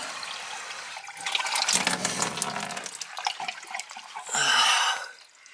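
Water runs from a faucet into a sink in a shop, fed by a newly installed Bosch Tronic 3000T 2.5-gallon electric water heater, coming out near freezing; a steady splashing gush that shifts in tone as the flow changes.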